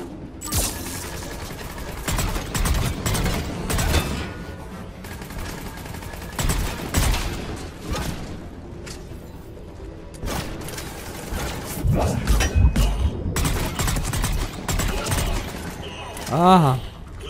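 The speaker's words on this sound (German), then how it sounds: "Wie viele Kanonen haben die denn bitte da aufgestellt?" Heavy cannon and gun fire from a battle in the video game Mass Effect 3, repeated booming bursts and mechanical clatter throughout, with someone talking over the combat.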